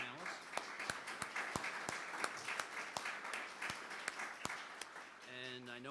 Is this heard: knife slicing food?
no